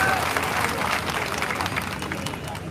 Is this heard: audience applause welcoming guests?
yes